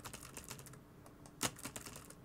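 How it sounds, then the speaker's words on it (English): Rapid typing on a computer keyboard, a quick run of light clicks at close range, with one sharper keystroke standing out midway; no voices. "I'm going to start typing"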